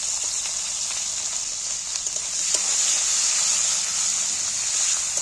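Chopped capsicum and green chillies fry in a hot pan for fried rice, giving a constant bright sizzling hiss that swells slightly halfway through and then holds steady.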